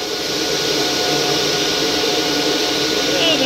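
An exhaust vent system for Antminer D3, L3+ and S9 crypto mining rigs roars at full vacuum, a loud, steady broadband whoosh of rushing air close by.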